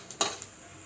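Urad dal and chana dal tempering fry in hot oil, with a steady close hiss of sizzling and a couple of sharp scraping stirs near the start. No speech.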